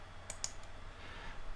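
Two quick mouse clicks on a computer, close and crisp, with a third fainter click after them over a quiet room hum; no one speaks.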